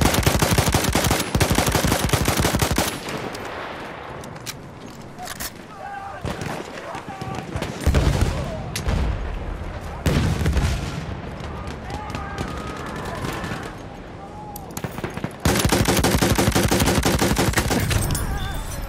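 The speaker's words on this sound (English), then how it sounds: "There, enemy machine gun." Sustained bursts of enemy machine gun fire in a Battlefield 1 battle, loud rapid rattling volleys that fade and return, mixed with distant explosions and voices talking over the combat.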